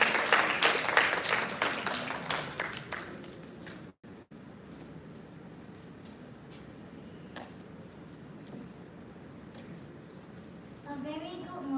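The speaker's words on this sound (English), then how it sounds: "Let's give her a big round of applause." Audience applause at a school World Speech Day event, with dense clapping in the opening seconds that fades into a softer room murmur with scattered claps.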